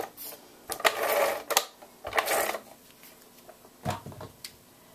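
A Scotch ATG adhesive tape gun runs glue onto scrapbook papers in several rasping, whirring strokes of about a second each, with clicks and handling clatter between, close up and without talk.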